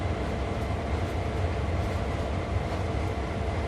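A train rumbles at the CSX Cumberland Terminal rail yard in Train Sim World 2, a steady, low, continuous drone of the locomotive and cars with no speech.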